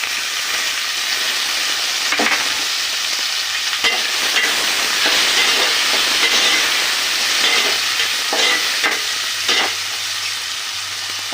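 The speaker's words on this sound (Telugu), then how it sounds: "ఇప్పుడు మనం టమాటాలు వేసుకుందాము." Chopped tomatoes frying in a pan, a loud, steady close-up sizzle with occasional stirring clicks and scrapes, no voices.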